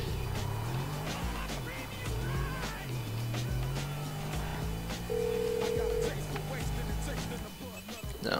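An Audi R8 driving in GTA 5, with a steady engine drone that shifts in pitch as it accelerates, tire noise and brief skids, all under a busy mix of game sounds.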